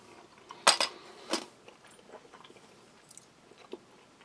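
A greasy, fatty dish from a Russian Shturm military ration is chewed up close, with a couple of sharp clicks of a utensil and then soft, quiet mouth sounds.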